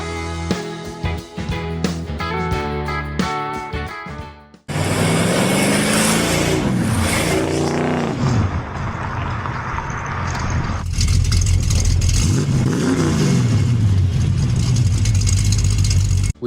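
A 1955 Chevy 210 with a 350 V8 and automatic transmission idles and revs in a classic car dealer's lot, the engine a loud, steady rumble that swells and settles after music gives way to it.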